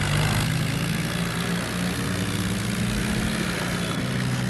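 Heavy tractor engines drone steadily in a video game, two tractors hauling a set of fully loaded trolleys, a continuous low rumbling roar at even loudness throughout with no pauses.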